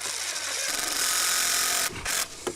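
A power screwdriver with a number 2 bit whirs steadily against a soft-metal Phillips screw, a close mechanical buzz that cuts out and restarts briefly near the end.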